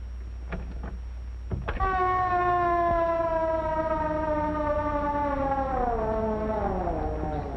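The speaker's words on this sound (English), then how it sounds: "There's the ambulance." An ambulance siren in a 1937 black-and-white film rises abruptly after a couple of faint clicks, holding a loud, steady, multi-toned cry that begins to slide downward near the end.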